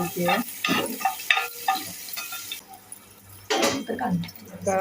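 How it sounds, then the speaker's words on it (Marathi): Pounded ginger-garlic paste sizzles in a pan, a soft frying hiss with stirring scrapes beneath a voice talking in bursts nearby. "खलबत्त्यात कुटलेली आलं लसूण पेस्ट परतून"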